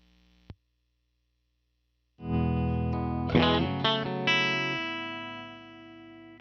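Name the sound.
guitar through pedalboard effect, blend knob cranked on low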